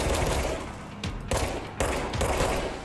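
Sustained automatic gunfire from a weapon in the video game Control, loud and close, pouring out in continuous bursts with two brief gaps between them.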